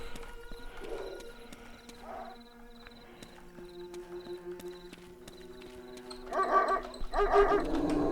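Dogs barking in the video game Dark Skies 2, a few short barks scattered over quiet game ambience, with louder bursts near the end.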